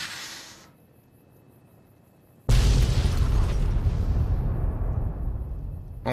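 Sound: explosion in Fallout New Vegas video game

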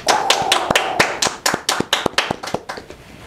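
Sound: clapping

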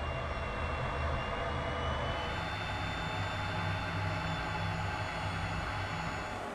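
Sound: US Marine Corps F-35B jets flying

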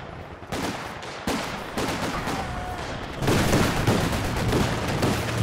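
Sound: machine gun firing suppression in a video game

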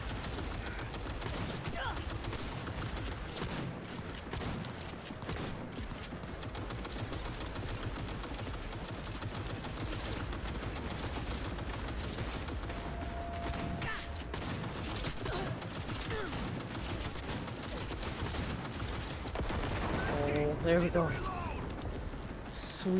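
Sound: gunfire from Cyberpunk video game

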